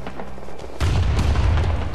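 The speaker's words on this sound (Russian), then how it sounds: "Везде под ногами взрываются гранаты." Grenades blasting in the Vietnam War shooter Rising Storm 2: Vietnam, a loud low boom bursting in partway through after a quieter stretch, followed by rumbling, crackling combat noise.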